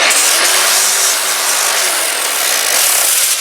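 A fast grinder works with its pad tearing apart, giving a steady, loud, harsh abrasive rasp that stays dense and unbroken from start to finish with no pauses and no talk.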